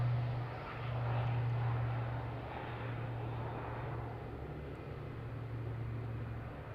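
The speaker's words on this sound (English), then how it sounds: "I can hear something going out. That might be that King Air." A King Air corporate turboprop departs Adelaide Airport, giving a steady, moderately distant propeller and engine drone with a low tonal hum that swells briefly and then holds under open outdoor ambience.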